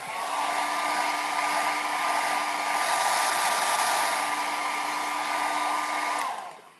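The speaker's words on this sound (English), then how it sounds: "all right, so let's dry that down." A hair dryer blows steadily on a fresh milk paint finish, a loud close whir with a faint tonal whine that runs for several seconds and then cuts off, with no talk.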